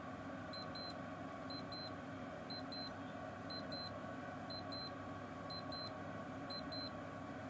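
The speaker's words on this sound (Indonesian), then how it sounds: "Alarm saya berbunyi" An alarm clock beeps in quick double pulses, repeating roughly once a second over a low steady hum, fairly faint and without speech.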